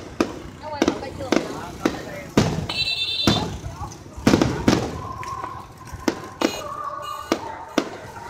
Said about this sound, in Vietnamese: đứng chỗ đây là nhìn thấy pháo hoa rất là gần nha